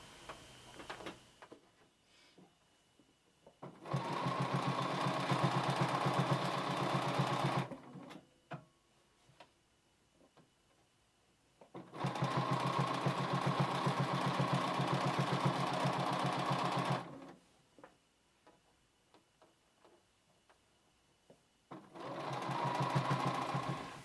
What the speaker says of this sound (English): I'm going to place my needle right on the edge of that fold, and I'm going to sew all the way around.